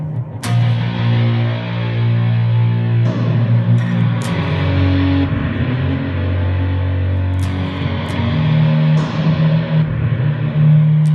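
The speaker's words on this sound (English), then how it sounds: "turn on a little fuzz so you can maybe hear it better" Electric guitar run through a fuzz distortion alongside tape echo simulation, sustained thick distorted tones with repeating echoes and sharp picked attacks, loud and continuous throughout.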